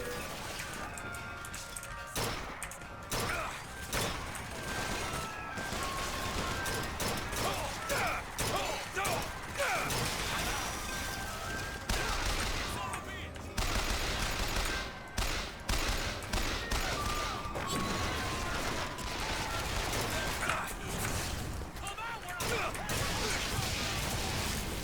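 Dense, sustained gunfire in the shooter Bioshock Infinite, with rapid volleys and sharp cracks running throughout. Heavy impacts and crashes mix in, and faint voices sit under the steady barrage.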